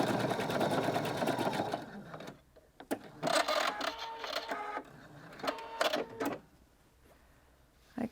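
A sewing machine stitches a blind hem in fabric, running in a steady whirring burst, stopping, then starting again in several shorter runs with brief pauses between, close and clear.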